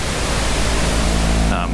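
A steady, dense pink noise drone between two synthesized tones, with a low tonal hum underneath, continuous and loud, thinning out abruptly near the end.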